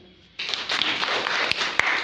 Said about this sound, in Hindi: एक बार सर के लिए ताली हो जाए